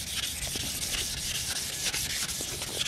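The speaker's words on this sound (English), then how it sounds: "I have 400 grit sandpaper, and I'm just gonna rub it on it just to take off all the excess rust" 400-grit sandpaper rubbed over a rusty turbo manifold, a continuous close scratchy hiss with fast back-and-forth strokes.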